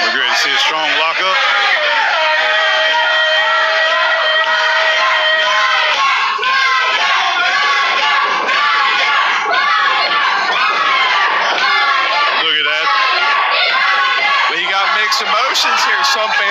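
Wrestling fans at an SCW match between Andy Aries and Ryker cheer, shout and yell continuously as a loud, dense crowd, with children's high voices prominent throughout.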